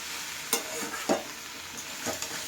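Spinach and potatoes stirred in a pan over low heat, giving a soft steady sizzle with a few distinct scraping strokes spaced about a second apart.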